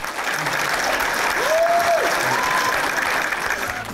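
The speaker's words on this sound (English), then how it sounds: "Give yourselves a round of applause." A packed stand-up comedy crowd in Johannesburg applauds loudly and steadily for four seconds, a dense roar of clapping with a brief whistle rising out of it midway.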